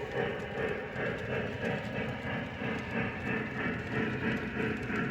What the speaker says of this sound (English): There goes the Great Northern boxcar, the two Baltimore and Ohio boxcars.